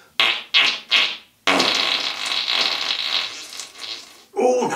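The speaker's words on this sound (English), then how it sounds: "here we are in the farting position" A performer does loud, close-up farts: three short sputtering blasts in quick succession, then one long, drawn-out rasping fart, and a final brief burst at the end.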